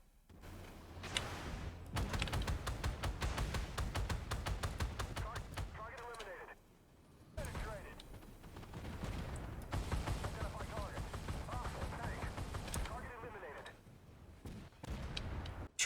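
Tank cannon shots from the 2S38 in War Thunder, sharp booming reports with heavy recoil thuds repeating over a dense rumble of engine and battle noise, with someone talking throughout.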